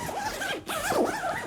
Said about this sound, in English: This is tied with Aer CPP2 as the smoothest main compartment zipper.